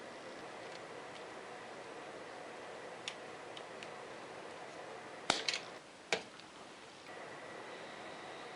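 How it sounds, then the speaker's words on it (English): Cutters snipping through sensor wires on a Polaris Scrambler 400 ATV for splicing: a couple of sharp close clicks over a low steady hiss, no talk. "So I'll cut these and splice that together."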